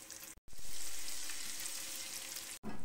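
Cumin seeds frying in hot oil give a steady, close sizzle that crackles throughout, briefly cut off twice, with no voices.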